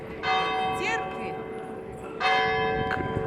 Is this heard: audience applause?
no